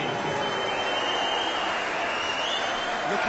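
Darts crowd in Aberdeen applauding Raymond van Barneveld, a dense, even wash of clapping that holds steady throughout with a commentator's voice faintly mixed in.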